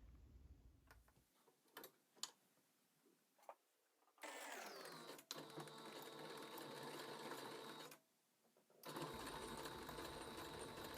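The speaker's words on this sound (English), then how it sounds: "now we're going to sew a 1/2 inch seam allowance along these edges" A sewing machine stitches a half-inch seam along the edges of a tote bag, starting with a few ticks and taps, then running in two long steady whirring bursts separated by a short pause.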